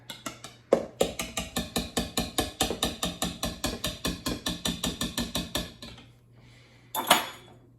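Fast, rhythmic clacking of a utensil vigorously beating sourdough crumpet batter against a bowl, about two strokes per second, close and sharp, stopping before a couple of final scraping knocks.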